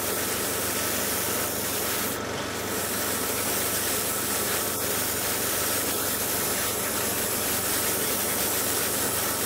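An airbrush sprays a wet coat of paint onto an anime garage kit figure, giving a continuous, even hiss with a low motor hum beneath it and one brief sharper burst of air.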